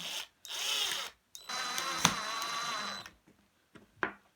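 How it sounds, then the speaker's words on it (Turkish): A power drill whirs in two short close bursts, straining as it drives a screw into a homemade 9V foam cutting machine, followed by a faint click and a brief tap. "matkap yardımı ile sıkıştıracağım vidamı."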